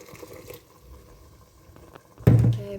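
Boiled kettle water is poured into mince and gravy, starting as a sudden loud splash and gurgle near the end after a quiet stretch of faint kitchen sounds.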